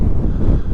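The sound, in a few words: wind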